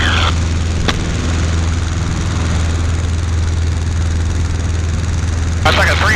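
Pietenpol light airplane engine roars steadily at full power through the takeoff climb, a loud continuous drone with a strong low hum and no talk over it.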